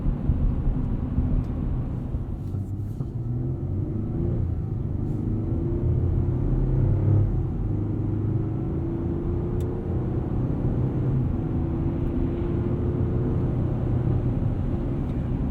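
Low, steady engine and road rumble inside a 2021 Chevrolet Colorado ZR2 truck with an 8-speed automatic on the move, a smooth drone with gentle pitch shifts as it drives along.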